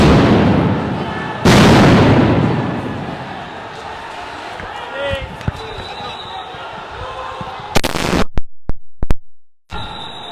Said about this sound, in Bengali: দর্শক, একের পর এক সাউন্ড গ্রেনেড নিক্ষেপ করছে পুলিশ